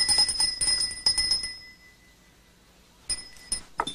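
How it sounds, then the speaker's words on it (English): A servants' call bell rings in a period house, giving a bright metallic jangle with several quick strikes, a pause, then a few more rings near and clear. "Harry, could you see why they aren't answering the bell?"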